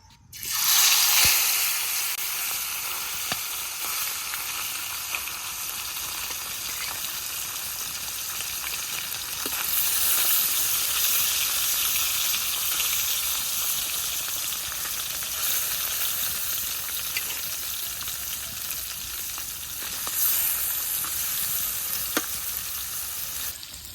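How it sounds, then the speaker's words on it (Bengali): Fish fries in hot oil in a village kitchen, giving a loud, steady sizzle that swells and eases over time, with occasional stirring or turning sounds and no talk. "ওখান তেলে মাছটা ভেজা নই।"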